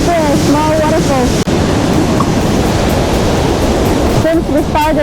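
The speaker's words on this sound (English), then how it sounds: "There's another one right there, a small waterfall." A small waterfall in a valley along a hiking trail gives a steady, loud rush of falling water, joined by wind buffeting the microphone and a person talking over it at the start and end.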